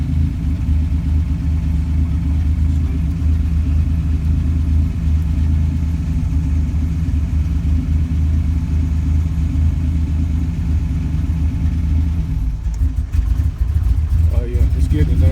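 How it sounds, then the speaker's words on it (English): A Buick Grand National engine idles with a steady, loud, close rumble, then stumbles and cuts out near the end as methanol is injected by a newly installed methanol pump. "See how the engine just died out? That means this methanol is being injected."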